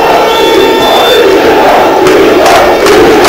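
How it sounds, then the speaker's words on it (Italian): A football stadium crowd of about 4,000 at an Italian match, Vigor Lamezia against Andria, roars and chants continuously, loud and sustained from start to finish, with no break in the noise. "È un tifo infernale"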